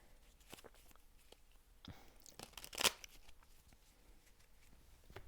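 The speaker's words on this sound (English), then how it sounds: "One more shuffle here." Tarot cards being shuffled close up: soft riffling and papery rustles building to a quick crisp flutter, then quieter handling, faint overall with no talking.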